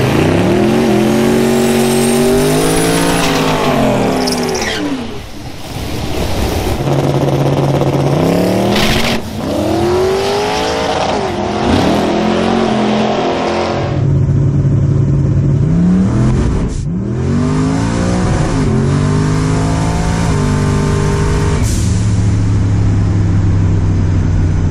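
LS turbo drag car launching on a track-day pass: a loud, close engine roars through repeated rising gear sweeps, with brief shift breaks and a steady high-rpm drone, alone with no talk.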